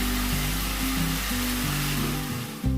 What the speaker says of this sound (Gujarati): નાખીશું તેલની અંદર મિક્સ કરી અને મસ્ત રીતે સાંકળી લઈશું